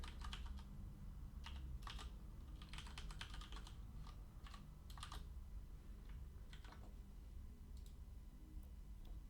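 Fingers tap on a computer keyboard in quick irregular bursts of clicks, close and fairly quiet over a low steady hum.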